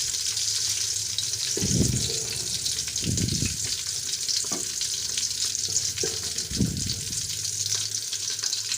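Onions frying in half a cup of ghee for Hyderabadi chana pulao, a steady close sizzle broken by several stirring scrapes and splashy clatters, no voices.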